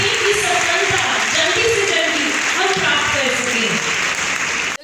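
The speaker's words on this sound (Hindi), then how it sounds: "सारे लड़के जोर जोर से लड़कियों के लिए पहले तालियां बजाओ।" Boys in an audience at a women's empowerment event clap loudly for the girls, giving sustained, full applause with a faint voice or tones threading through the crowd noise.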